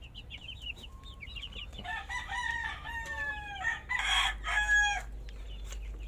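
Japanese Shamo and Basilan giant breed chickens crow and cluck with repeated high calls, growing louder and denser toward the end, with a brief spoken word near the start.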